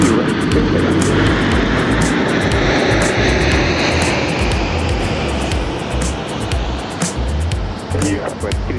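Southwest airliner taking off from Dallas Love Field in the rain, its engines roaring loud and steady throughout under a constant rain wash, with air traffic radio chatter over it.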